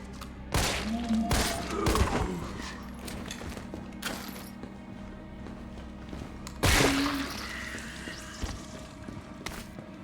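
Gunfire in the video game Resident Evil 3, with a few sharp, loud shots spaced seconds apart against a low game background hum.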